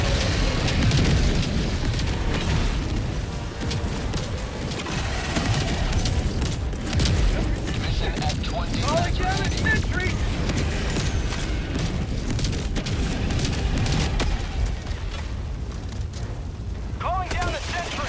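Orbital strike explosions in Helldivers 2 on Super Helldive difficulty: continuous rolling booms and blasts with scattered gunfire and mechanical clatter, a dense loud battlefield roar lasting throughout, with a voice talking at points.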